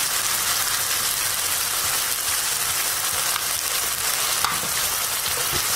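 Gongura (sorrel) leaves fry in a salted pan for gongura rice, giving a steady, close, dense sizzle with light stirring scrapes throughout.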